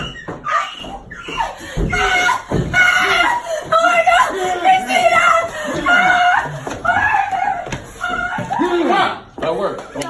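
A woman screams loudly and repeatedly in shrill, high-pitched bursts, with other voices and some laughter around her.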